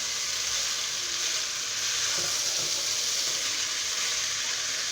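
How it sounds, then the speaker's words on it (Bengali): Broken rice fried with salt in a pan, pouring out a loud, unbroken close-up sizzle with faint stirring scrapes underneath. "এখন আমি এটাকে ভালো করে নাড়ব ভেজে নেব"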